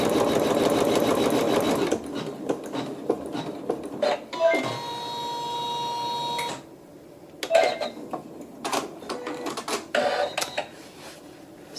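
A sewing machine stitches a quilt block section along a basting line in short bursts, with a steady, buzzing run of stitching in the middle between quieter handling noises.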